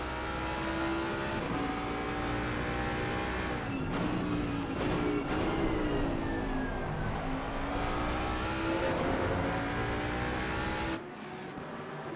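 Race cars including a Porsche and a Mustang circuit at Bathurst, engines droning steadily with shifting pitch as they pass and rev, loud and continuous throughout, with a sudden drop near the end.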